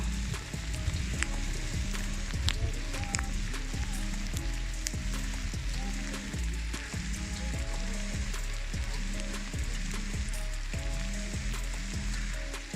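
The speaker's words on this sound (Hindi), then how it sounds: "ये सारे ओले पड़ना शुरू हो गए हैं यहाँ पे बहुत ज़्यादा।" Hail and heavy rain fall outdoors in the mountains of northern Pakistan, around Shogran and Siri Paye, making a dense, continuous patter and hiss with recurring low thumps throughout.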